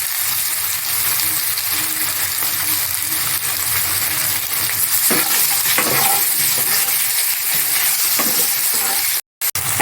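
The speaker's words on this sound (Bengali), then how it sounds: "আলুটাকে ভালো করে একটু ভেজে নেব" New potatoes fry with turmeric in a pan, a dense, continuous loud sizzle with occasional stirring scrapes and metallic clinks, ending in a brief sharp drop-out; no voices.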